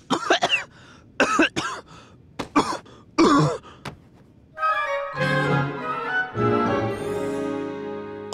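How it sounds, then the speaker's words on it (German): Several loud coughs and throat-clearing bursts in quick succession, followed by a sustained strained vocal sound. "Dann werde ich lieber weiter husten."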